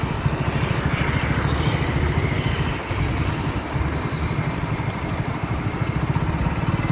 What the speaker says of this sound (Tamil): பின்னால் வண்டி வருதான